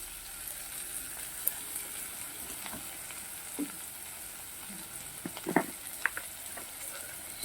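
Spices and hilsa fish masala with salt and turmeric fry over medium heat, a soft continuous sizzle broken by scattered crackles and a few spoon clicks against the pan.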